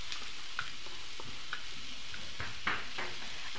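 Onions frying in a pan, with boiled peas about to go in, make a soft, even sizzle broken by a few light taps and scrapes of a stirring spoon, close and unvoiced.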